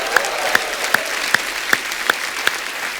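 Studio audience on a comedy show claps in sustained applause, a dense wash of hands with evenly spaced sharper accents, close and loud, with no talk over it.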